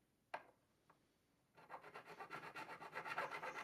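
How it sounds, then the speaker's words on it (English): Metal file rasping across a dented guitar fret: two isolated scrapes, then a steady run of quick rhythmic back-and-forth strokes, close and fairly quiet, with no voices. "I only spent a few minutes filing"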